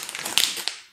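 A bag of Sour Madness sour gummy candy is crinkled close up in a brief, crackly rustle lasting about a second, with a couple of sharper snaps in the middle and no voices.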